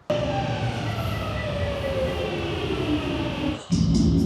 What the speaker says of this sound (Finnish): Mä menen metrolla nyt.